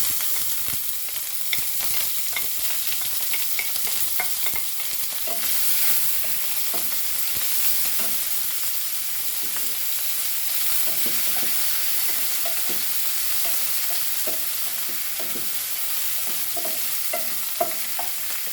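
Chopped onion fries in oil with home-grown curry leaves for a Goan raw papaya bhaji, giving a loud, even sizzle with scattered stirring clicks and scrapes and no voices.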